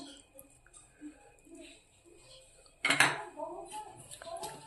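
Lemon squeezed over capsicum bajji batter, then mixed in a bowl: a burst of wet squelching and scraping against the bowl, close and moderately loud, after quieter faint handling sounds.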